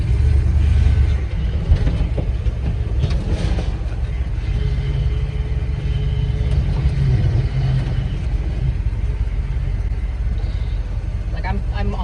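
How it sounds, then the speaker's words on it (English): A 1973 Chevrolet C10 pickup drives along with a steady, heavy low rumble of engine and road noise, loud and continuous throughout, with faint voices mixed in underneath. "that was the first drive in the 73 C10"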